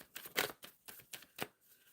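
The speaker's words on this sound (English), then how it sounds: "Shuffling for Carla" Tarot cards shuffled during a live reading, a run of quick crisp riffling bursts in an uneven rhythm, close and fairly soft, with no talk over them.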